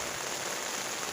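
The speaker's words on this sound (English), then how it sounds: "That's just the rain on my umbrella." Dense steady rain drums on an umbrella outdoors in a garden, a constant close hiss of countless drops, alone without voices.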